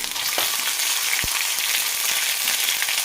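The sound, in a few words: ginger garlic paste frying in hot oil with mustard seeds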